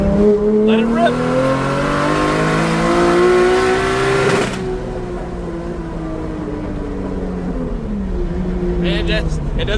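A BMW E30 with a DCT gearbox revs up loudly and close, its engine note climbing, then drops a gear with a sharp break and pulls hard again as the pitch rises once more.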